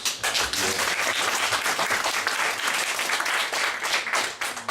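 Steady, full audience applause at a Go programming meetup in Warsaw after the beer sponsor is thanked, dense overlapping claps sustained at even loudness for nearly five seconds.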